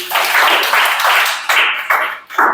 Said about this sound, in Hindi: ताली बजाओ दूरी के।